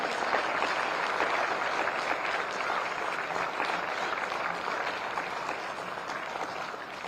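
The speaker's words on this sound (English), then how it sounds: "Please give him a big round of applause." Audience applause at a live event, a dense, steady wash of many hands clapping that holds for several seconds and fades slightly toward the end.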